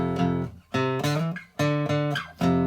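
An acoustic guitar plays the chords of a song in a lesson. There are three strummed chords, each ringing out before the next, played close and alone with no talking.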